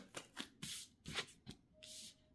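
Tarot cards are shuffled in a series of quick, close papery bursts, roughly half a dozen short riffles and slides with brief pauses between them.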